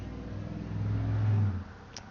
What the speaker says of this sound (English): a really loud truck just went by